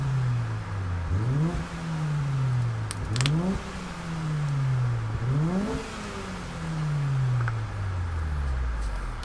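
A Honda EK9 Civic VTEC Type R engine in Gran Turismo Sport, revving up through the gears with repeated rising whines, each shift dropping the pitch before it climbs again, steady and close.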